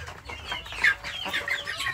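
Free-range village chickens and their chicks cluck and chatter nearby in a short burst of overlapping calls with one sharper squawk.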